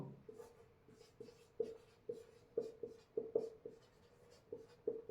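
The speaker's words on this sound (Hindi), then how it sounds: "मैं यहां पे लिख देता हूं इसको," Chalk or marker strokes writing a word on a classroom board during a political science lesson, a close series of short scratchy squeaks and taps in an irregular rhythm, heard alone.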